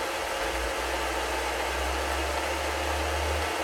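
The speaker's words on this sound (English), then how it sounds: "you can see it's already cutting, and I'm gonna just engage the auto drive" A machine lathe on auto drive shaves a soft phonograph wax cylinder with a carbon steel cutter, producing a steady, loud whirring motor hum with a low drone and a continuous airy hiss, unbroken throughout.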